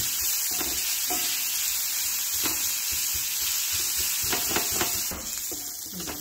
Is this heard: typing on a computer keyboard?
no